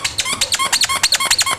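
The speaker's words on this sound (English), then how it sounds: "Oh, it squeaks." A squeaky dog toy is squeezed rapidly about a dozen times, producing loud, close, high-pitched rhythmic squeaks with no talking.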